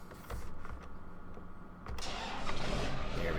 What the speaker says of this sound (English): It sounds more like a truck or something than a tractor